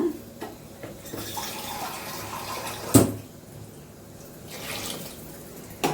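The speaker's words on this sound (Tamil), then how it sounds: "கொஞ்சம் ஒரு கப்பு தண்ணி ஊற்றிருக்கேன்." A cup of water runs and splashes steadily into a pot of drumstick sambar, a continuous pouring hiss with a couple of sharp clinks of metal.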